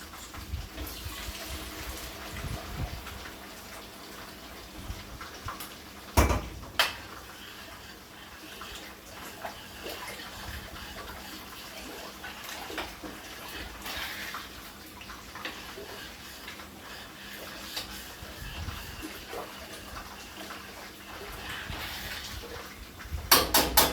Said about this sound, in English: now I'm gonna add the water